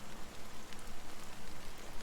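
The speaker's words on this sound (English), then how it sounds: "how long has this rain been going on for?" Steady rain falling in Honkai Star Rail, a dense, even hiss of drops on surfaces with faint patter, continuous and fairly close throughout.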